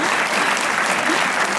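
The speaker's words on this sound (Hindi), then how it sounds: "ताली बजाने के लिए।" Studio audience applause on a comedy talk show, brief and dense, with loud continuous clapping from many hands filling the moment.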